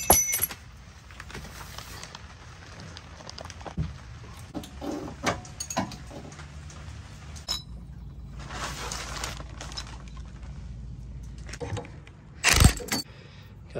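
Metal tools clink and ratchet against a Jeep axle as the differential carrier is worked loose with a wrench and ratchet, scattered close clicks and knocks, then a sharp loud clatter near the end.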